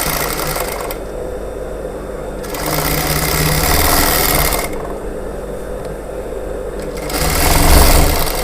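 A sewing machine stitching a plain blouse runs in a loud, close, steady whir, speeding and slowing over several bursts with brief pauses between.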